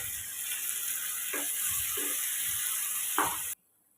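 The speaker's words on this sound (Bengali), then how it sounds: "যে মশলাটা ছিল সেটাও দিয়ে দিলাম দিয়ে ভালো করে মিশিয়ে নেব" Ridge gourd and spices sizzling steadily in a pan, with a few soft stirring scrapes breaking through the close, even hiss before it cuts off abruptly.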